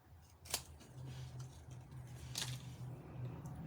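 Scissors snip through paper during a Stampin' Up! Paper Pumpkin craft kit project, two crisp cuts at about half a second and two and a half seconds over a steady low hum, close and fairly quiet.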